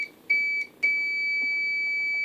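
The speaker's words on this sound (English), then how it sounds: "Let's stop the infernal beeping." An APC Back-UPS 500 battery backup gives sharp electronic beeps in quick succession, then one high tone holds steadily, clear and close in an otherwise quiet room.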